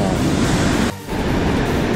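Ocean surf breaking on a sandy beach near Sendai in the early morning, a steady broadband roar of waves and foam that fills the clip, briefly dipping for a moment before surging back at full strength.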